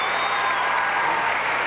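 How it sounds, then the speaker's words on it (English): Crowd at a 1991 mixed pairs international gymnastics event cheering for an American pair, a steady, dense roar of applause filling the whole moment without a break. "Boy, this crowd is fired up"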